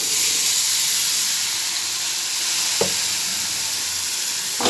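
Ground cumin with a splash of water sizzles and hisses steadily in a hot pan while cooking egg curry, close and loud, with a couple of brief clinks of a utensil.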